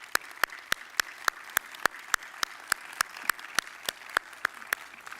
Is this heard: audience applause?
yes